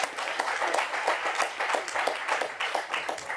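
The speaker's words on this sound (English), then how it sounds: "Can you guys clap for this man already, please?" An audience at a book launch in South Africa applauds, steady dense clapping from many hands in a room, fairly close and continuous, with little talk over it.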